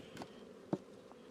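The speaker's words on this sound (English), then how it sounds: "Plenty of bees, nice bees, pretty happy." Honey bees buzz around an open hive during a spring inspection, a faint steady hum with a few brief louder passes as single bees fly close.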